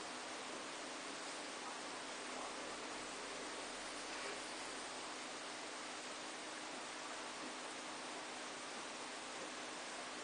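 A 1.1 ml conic vape tank gives off a steady, faint airy hiss as it is drawn on, an unbroken soft rush lasting about ten seconds with no voices.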